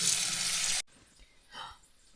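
Ice-cold artesian well water runs briefly and loudly over homemade butter being rinsed, then cuts off abruptly, leaving a quiet room with a faint soft sound afterward.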